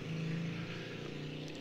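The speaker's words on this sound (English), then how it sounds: "Now, there's a motorbike, hold on." An engine drones steadily outside, a motorbike going past with a low, even hum at a moderate distance for the whole short stretch.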